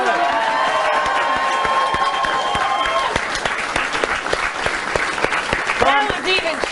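Studio audience at a late-night talk show breaks into loud, sustained applause with some cheering, a dense wash of clapping that carries on steadily, with a voice or brief tonal sounds over the opening seconds.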